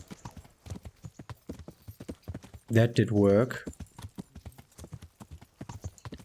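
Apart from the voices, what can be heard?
horse hooves clip-clopping while riding, from video game Kingdom Come: Deliverance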